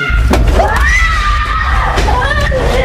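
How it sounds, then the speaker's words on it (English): A child screams from somewhere inside a house, a loud, wavering high-pitched cry that rises and falls over a few seconds, mixed with heavy low rumble and some thumps. "the sound of a screaming child is heard from somewhere inside the house"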